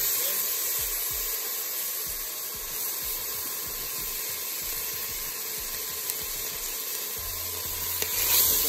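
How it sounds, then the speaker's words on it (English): Marinated beef short ribs searing in an oiled pan, a steady close hissing sizzle that holds evenly throughout, with a slight swell near the end. "We're gonna place our beef short rib."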